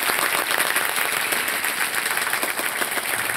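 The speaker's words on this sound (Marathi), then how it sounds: "जरा टाळ्या जोरदार पुन्हा एकदा या संपूर्ण संघासाठी झाल्या पाहिजे." Steady loud applause from a crowd cheering a team at a Mangalagaur women's festival gathering in Maharashtra, a continuous dense clapping wash that holds evenly throughout.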